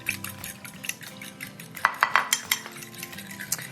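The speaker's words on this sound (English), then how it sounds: "you just wanna beat these." Two eggs beaten with a fork or whisk in a shallow bowl, quick metallic clinks and taps against the dish, clustering into a brisk rhythmic burst midway, close and fairly quiet.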